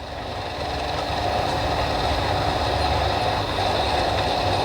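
A passenger train on an Indonesian railway line between Tanjung Priok and Jatinegara rolls steadily past close by, giving a loud, continuous rumble and wheel noise with no talking.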